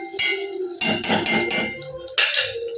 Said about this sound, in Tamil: இப்போ திறந்து கிளறி விட்டுக்கலாம்